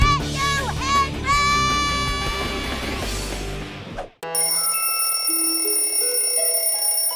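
A cartoon telephone rings loudly in Horrid Henry: an electronic ringing tone enters after a brief, noisy cartoon scene and holds steady to the end.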